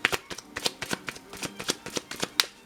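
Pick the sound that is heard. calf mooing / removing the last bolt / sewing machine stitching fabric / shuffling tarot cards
shuffling tarot cards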